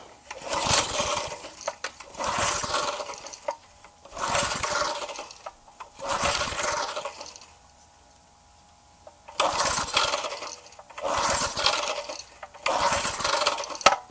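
A gas-powered lawn edger with the choke on being pull-started, giving repeated bursts of sputtering engine noise of about a second each, close and loud, with a silent gap partway through as attempts pause.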